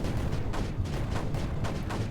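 Mortars in Creeper World 4 fire as a dense, continuous rumble of low thuds, with brighter bursts recurring roughly every half second, loud and close with no voices.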